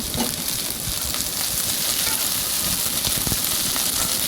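Green chilies fry in a small amount of oil in a pan, lid lifted and stirred, giving a steady close sizzle with occasional stirring scrapes.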